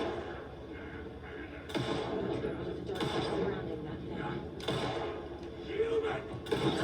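Gunfire in the horror video game Alan Wake: several loud, heavy shots or thumps at irregular intervals over a steady ambient game bed, with a person talking at times.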